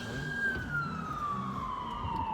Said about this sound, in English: now you hear sirens in Chicago